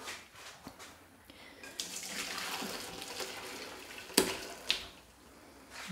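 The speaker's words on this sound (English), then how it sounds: "So what I'm gonna do is I'm gonna strain the court bouillon." Hot court bouillon, a vegetable-stock poaching liquid, is strained into another pot, giving a soft, steady pour of liquid for several seconds with a couple of sharp clinks of metal cookware.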